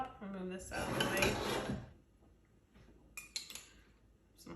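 A dish is slid aside with clattering, clinking crockery and cutlery in a food truck test kitchen during garnishing, loud for about a second, then softer scattered taps and clinks.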